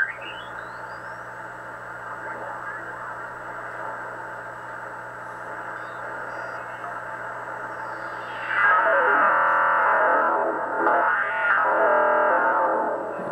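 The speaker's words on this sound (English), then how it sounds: "This is my BITX40 transceiver. I just added an AGC circuit. This is a sample sound." BITX40 transceiver audio with a newly added AGC circuit: steady hiss and a warbling, distorted tone, then a louder burst of sweeping signal noise near the end.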